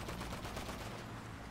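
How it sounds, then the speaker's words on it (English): Dense, loud burst of gunfire in GTA 5, a rapid continuous barrage filling the whole moment with no talk over it. "Why is there people shooting at me?"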